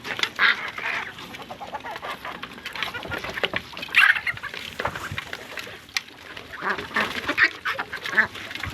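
Ducks and chickens feeding together on a farm, with repeated quacking and clucking calls scattered over a steady busy background of nearby birds and no talking.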